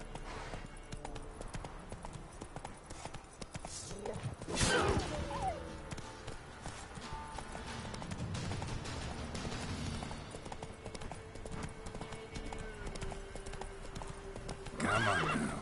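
A horse in The Witcher game trots and gallops with steady hoof clip-clops, snorting and whinnying at moments, with a loud whoosh partway through.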